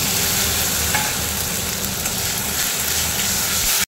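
Ground spice paste of green chilli, with turmeric, cumin and salted water, frying in oil for a bhola fish paturi, a loud, dense, unbroken sizzle close up with faint stirring and no voices.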